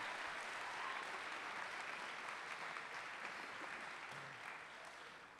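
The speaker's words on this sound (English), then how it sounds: "So give them a round of applause." An audience at a school jazz concert applauds after a performance, a dense, sustained wash of clapping that fades slightly toward the end, heard from a distance.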